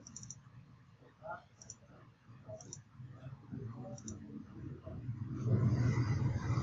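Computer mouse clicks while working in TortoiseHg version control software, several light, separate clicks spaced out at an irregular pace with a low background hum underneath.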